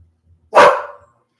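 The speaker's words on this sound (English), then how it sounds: "stop barking at me" A single sharp dog bark, close and loud, dropping quickly into silence.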